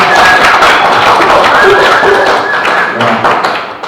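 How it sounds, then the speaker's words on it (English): An audience at a national conference claps continuously, a dense, loud spread of hand claps filling the room with faint crowd murmur beneath. "So clap for yourself."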